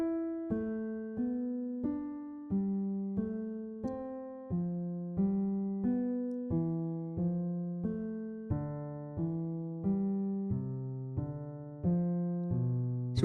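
An iOS MIDI pattern plugin plays a synthesized melodic sequence, repeating groups of three ascending notes that then drop to a lower note and climb again, each note plucked and decaying evenly, played alone at a steady tempo.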